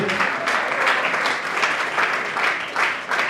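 A crowd celebrating a 30-year music career breaks into dense, loud applause, a continuous roar of many hands that swells and eases slightly across a few seconds.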